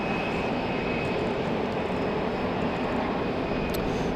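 Frontier Airlines Airbus A320-200 landing at Raleigh-Durham in the rain, a faint, even wash of jet engine noise blended with steady rainfall, unbroken for the whole stretch.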